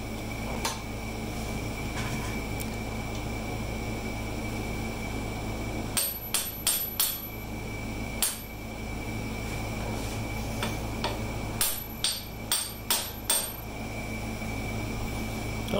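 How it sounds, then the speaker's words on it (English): Hammer blows strike stuck screws on a lever that raises and lowers the deck of a Kubota G4200 mower, landing as sharp metallic taps in two bursts of four or five over a steady background hum. "you watch when I hit it. Basically what it does is when you hit it with a hammer"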